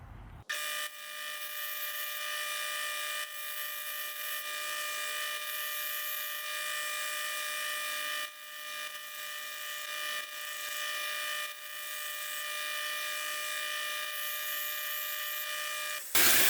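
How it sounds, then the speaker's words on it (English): Steady high-pitched whine of a grinder sharpening the bevel of an antique chisel, continuous and close for the whole stretch with only brief dips in intensity where pressure shifts. "So we'll just use that existing angle to grind against."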